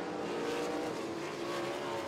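Sprint cars race around a dirt track during a USCS sprint car heat at I-75 Raceway, engines roaring continuously and loud as the pack runs laps.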